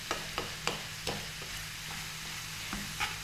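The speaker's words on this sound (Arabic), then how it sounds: "ونحرك مزيان حتى يندمجوا العناصر كاملين المكونات" A spoon stirs spices into a crepe filling in a pan, making a series of light, irregular scraping strokes over a faint, steady sizzle, close and with no speech.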